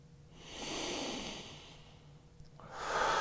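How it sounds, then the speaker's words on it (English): Two slow, deep breaths during a yoga hip stretch: a long, airy inhale or exhale swelling and fading, then a second rising breath after a short pause, close and fairly soft. "A couple more breaths here."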